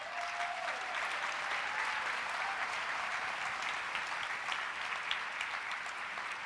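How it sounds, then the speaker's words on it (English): Sustained applause from an audience at an evening gathering, honoring a professor; steady dense clapping throughout, no speech. "we want to give her a round of applause"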